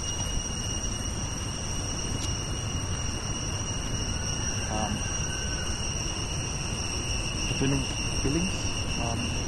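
A dense, continuous chorus of crickets shrills loudly and steadily throughout in a workers' village on Koh Rong, Cambodia, with a few faint other calls and sounds scattered underneath.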